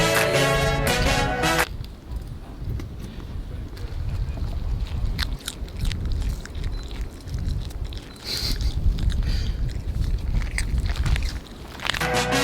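A boat ride on open water returning from Rottnest Island, with a steady, close rush of wind and water noise and a hull rumble that swells and eases throughout, with no clear talk.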